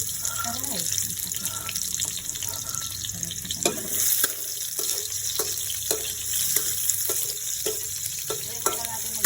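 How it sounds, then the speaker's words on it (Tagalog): Onions browning in reused cooking oil for octopus adobo, a steady close sizzle with repeated short scraping and stirring clicks and some running-water-like hiss throughout. "Pwede na natin mag-brown-brown ng sibuyas."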